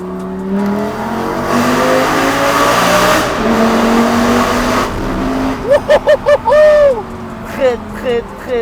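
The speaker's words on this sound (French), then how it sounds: "quand il accélère et qu'il passe le rapport, ça revient. Dès qu'il relâche, ça repart. C'est violent." Lamborghini Gallardo Superleggera accelerating hard with a loud, rising engine note, then a series of sharp gear-shift barks and revs near the end; close and powerful, with crowd noise around it.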